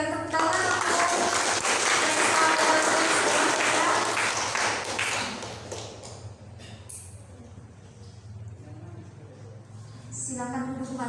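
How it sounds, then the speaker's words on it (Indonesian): Audience applause at a student government handover ceremony for a university president and vice president, a dense burst of clapping that fills the first five seconds, then fades to scattered claps, with a brief return near the end. "Mari kita berikan tepuk tangan."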